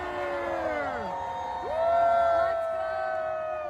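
A large crowd at a New Year's Eve fireworks show by the Brooklyn Bridge cheers and whoops, with many rising and falling voices blending into a loud, continuous roar that swells briefly in the middle.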